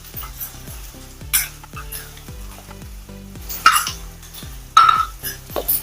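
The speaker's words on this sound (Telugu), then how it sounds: "ఇవన్నీ కలిపి ఒకసారి వేగనిద్దాం." Chili powder and spices fry in oil for a fish curry while a spoon stirs the pan, so a constant sizzle sits under repeated scraping strokes and a few louder metallic knocks, all close and with no one speaking.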